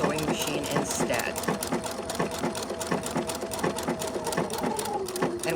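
A sewing machine runs a triple stitch, driving the needle forward, back and forward again. The close mechanical whir pulses in a fast, even rhythm throughout.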